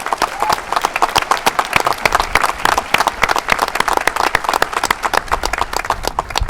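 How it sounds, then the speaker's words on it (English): Graduation audience at the FHS 2021 ceremony claps for the school's teachers, dense, steady applause from many hands filling the space, loud and close throughout. "quick round of applause for all of our FHS teachers,"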